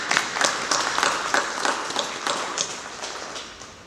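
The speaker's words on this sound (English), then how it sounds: "If we could all just clap for Exo" Audience applause at a business networking club breakfast meeting, a moderate patter of clapping hands from a room of attendees that holds steady and then gradually tapers off.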